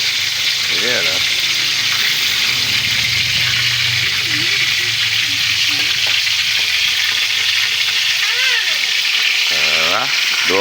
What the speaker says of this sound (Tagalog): Natalsik-talsik ang mantika